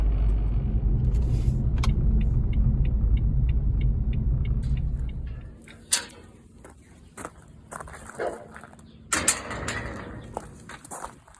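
A car drives steadily with a low rumbling engine and road noise for about five seconds, then the drone stops and scattered clicks, thumps and handling noises follow.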